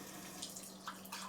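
Water runs from the tap of a Tyent ACE-11 water ionizer on an alkaline setting, a faint steady stream with a few soft splashes and clinks near the glass.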